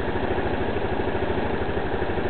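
A 260cc scooter engine runs steadily with a low, regular pulsing throb, close and continuous with no voices over it.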